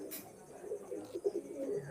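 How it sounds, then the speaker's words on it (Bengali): Pigeons coo in low repeated bursts, close by, with a brief higher flutter near the start. The breed is Ferozpuri with red eyes. "লাল চোখের কবুতরগুলো এক্সিলেন্ট কবুতর"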